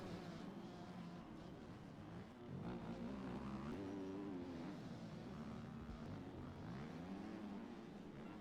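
Motocross engines drone continuously at a race, with a rising and falling mid-pitched buzz that suggests a 125cc two-stroke bike working somewhere in the background among the other machines.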